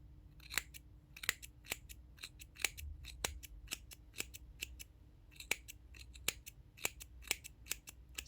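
Scissors trim a yarn pompom in a quiet room, producing a steady run of crisp close snips, dozens of cuts in quick irregular bursts with short pauses.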